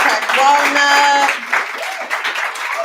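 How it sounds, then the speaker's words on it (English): Audience applause at a monthly poetry and pints open-mic night, a loud wash of clapping that swells then thins, with voices and some cheering mixed in over it. "give it a round of applause for yourself again"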